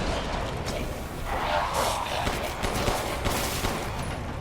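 Gunfire in the video game Resident Evil Village, a burst of repeated shots and rattling fire over a dense noisy game backdrop, moderately loud with no clear talking.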